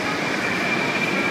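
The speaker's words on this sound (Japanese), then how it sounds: "22番線に到着の電車は折り返し運転のため車内の整備点検がございます。" Joetsu Shinkansen Tanigawa train arriving at Tokyo station, a steady rumbling rolling noise with a thin high whine, heard as a brief continuous passage with no voices.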